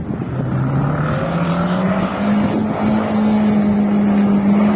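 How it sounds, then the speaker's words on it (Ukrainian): A car engine idles and then revs steadily higher, a loud continuous motor hum with rising pitch, close by. "У Олежки сунет хорошо мотор Слышно, работает."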